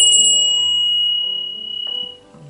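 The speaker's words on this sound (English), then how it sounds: "and we lift the bell again" A ritual bell lifted and rung at an altar in a Norse witchcraft yule practice, one bright clear strike with a long ringing tone that slowly decays, with faint low sounds underneath.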